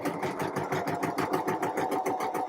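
A sewing machine hems fabric with a steady, rapid mechanical stitching rhythm, a continuous whirring chatter at moderate, even loudness.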